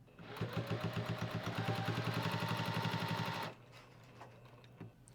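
A sewing machine runs a test seam on dark gray fabric with a long top-stitch length, giving about three seconds of rapid, evenly pulsing mechanical stitching up close. It then stops abruptly, leaving a faint hum and light handling clicks.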